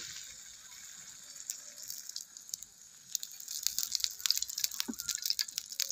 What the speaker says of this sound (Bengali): এখানে আমি সাদা তেল দিয়ে ভাজছি